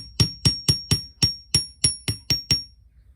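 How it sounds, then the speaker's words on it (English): Ten sharp metallic hammer strikes on a steel bench block, flattening a wire bangle link, fall in a steady, evenly spaced rhythm, close and loud with ringing tails. "we shall take our bench block and then hammer this"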